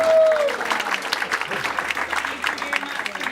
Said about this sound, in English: We better give her a nice round of applause tonight.